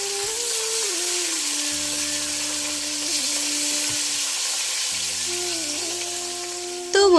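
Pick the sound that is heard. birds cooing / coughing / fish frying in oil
fish frying in oil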